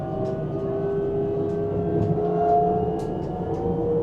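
An Abellio regional train picking up speed after leaving Sangerhausen station, heard from inside the carriage as a steady rising motor whine with tonal hums and occasional faint clicks over constant rumble.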